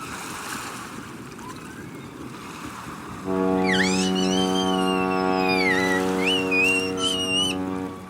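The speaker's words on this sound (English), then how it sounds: "The boat horn again." A boat horn sounds a long, steady, deep blast at the beach, over breaking waves and wind, with high whistling calls drifting above it.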